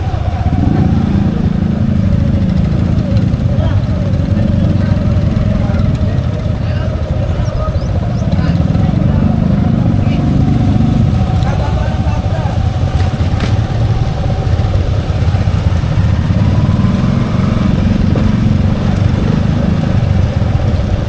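A motorcycle engine idling nearby outdoors on a hot afternoon, a steady low rumble running for the whole stretch and swelling slightly at intervals, with people talking over it.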